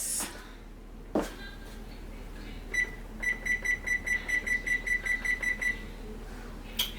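An oven timer in a home kitchen gives a clean single beep, then a steady run of about a dozen evenly spaced short beeps as its buttons are pressed to set it, loud and close with no talking.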